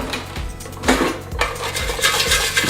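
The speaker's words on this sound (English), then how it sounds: "You can hear the crispiness of the fries." Crispy air-fried French fries are tossed and shaken in a metal basket, giving close, irregular rattles and scraping clinks with a few louder knocks.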